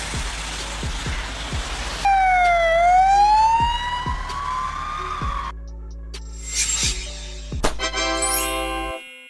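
Lithuanian ambulance sirens, likely on Mercedes-Benz Sprinter, Volkswagen Crafter or Ford Transit vans, heard loud and close: a slow rising-and-falling wail, then a faster yelping tone, with sharp clicks between segments.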